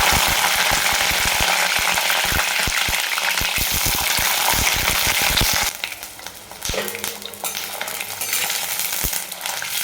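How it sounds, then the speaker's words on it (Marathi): Brinjal hits hot oil with mustard seeds: loud, close frying with rapid crackling pops for several seconds, then a softer, steady sizzle with occasional stirring clinks. "तर तेल गरम झालं की आपण याच्यात टाकू हे वांगे"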